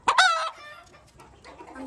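A red rooster lets out a short, loud crowing burst at close range, followed by softer clucking from chickens nearby in a backyard coop at shutting-up time.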